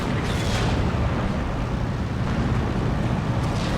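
A shell strikes a Jagdpanzer tank destroyer in the World War II strategy game Steel Division 2, a dense, rumbling explosion that rolls on as a continuous low roar of battle noise.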